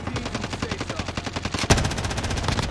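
Rapid automatic gunfire in the Call of Duty Warzone Rebirth Island battle royale, a steady fast burst of shots with one sharper, louder crack partway through, close and continuous with no talk over it.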